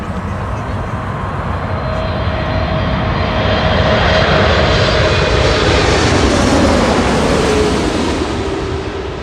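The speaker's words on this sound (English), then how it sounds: "Here we go. Lufthansa 747-8 from Frankfurt." A Lufthansa Boeing 747-8 lands on runway 24 Right at Los Angeles International Airport, a continuous broad jet roar that swells and holds, with wind-like rushing noise throughout.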